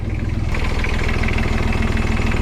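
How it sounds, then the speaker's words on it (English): A Yanmar 3YM30 diesel engine runs close by at a steady idle, its low rumbling drone continuous and loud with no voices. "take a look at the engine now that it's running"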